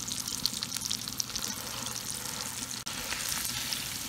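One and a half pounds of 80-20 ground beef browns over a real wood fire on a Watchman Stove, a steady moderate sizzle with soft stirring scrapes, no speech.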